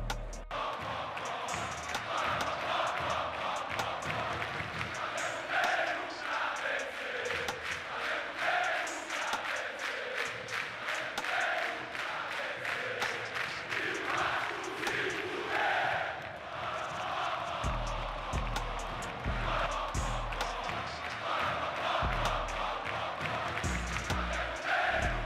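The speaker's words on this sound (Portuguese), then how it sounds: "O Corinthians veio para vencer é o grito da Fiel quando vamos jogar aquele jogo mais difícil ou aquele clássico" Corinthians supporters chant in a packed stadium, a massed crowd roar with rhythmic pounding drums that grows heavier in the latter part, sustained and loud throughout.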